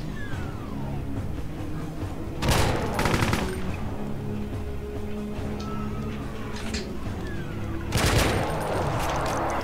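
Suppressed gunfire in a modded Doom (GZDoom, Call of Doom Sigil) level, heard as two short bursts of muffled shots several seconds apart over a constant game soundtrack and ambience.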